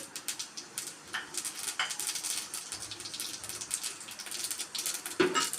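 Mustard seeds spluttering in hot coconut oil in a pan, a steady run of rapid small pops and crackles, close and fairly quiet, with no talking.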